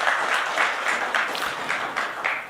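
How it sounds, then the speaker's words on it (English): Audience applause at a corporate event-management gathering, a steady moderate wash of clapping with rhythmic surges, recorded from within the room. "Big round of applause for her"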